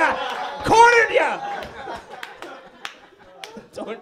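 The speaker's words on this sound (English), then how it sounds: "Do not applaud that." A comedy club audience reacts to a dark joke with a brief burst of applause and laughter, dropping to a few scattered claps and murmurs while someone talks.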